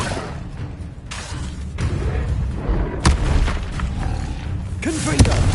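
Depulso spell impacts in Hogwarts Legacy: heavy booming thuds and sharp cracks land near and loud amid ongoing combat rumble, with one sharp hit around the middle and another near the end.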